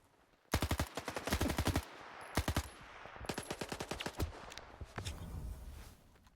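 Automatic gunfire in S.T.A.L.K.E.R. 2, shot through a wall: sharp, loud bursts of rapid shots in several volleys with short gaps, then scattered single cracks and a softer shuffle of movement.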